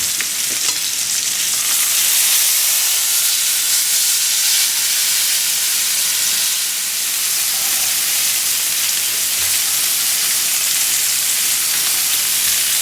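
Duck breast sizzles skin-side down in a greased frying pan, a steady, loud broadband crackle and hiss that holds evenly throughout with no talking.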